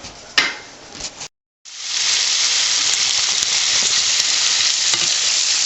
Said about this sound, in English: So browning the meat.